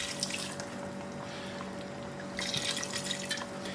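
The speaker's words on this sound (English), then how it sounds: "I'm going to add about 1/3 or so of this bottle of wine in now," Red wine is poured into a simmering Genovese ragu, giving a soft liquid splashing and trickling in two bursts over a steady background hum, with no talk.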